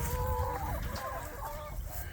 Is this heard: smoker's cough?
no